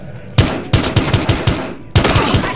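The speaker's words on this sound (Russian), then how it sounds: "Замечена перестрелка." Gunfire in a Battlefield Hardline shootout: a loud, close burst of about eight rapid shots, a brief pause, then another quick volley of three or four shots with ringing tails.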